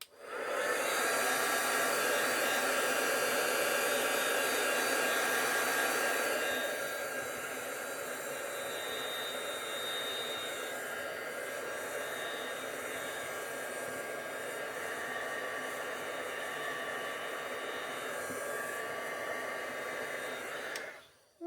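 A heat embossing tool blows hot air over a heat-embossed tile, a steady loud hiss and whir running nearly continuously, slightly louder at first then holding level until it cuts off at the end.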